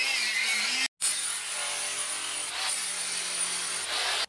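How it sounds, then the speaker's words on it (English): A hammer drill grinding into rock while digging a tunnel, a steady loud buzzing whir with one brief stop near the start, then continuing unbroken. "I think I may have finally killed another one of these drills."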